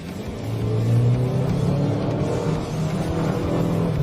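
A Changan CS55 Plus SUV with a turbocharged engine and seven-speed wet dual-clutch gearbox accelerates hard. A loud, steady engine roar climbs in pitch over four seconds, heard from inside the car with no talking.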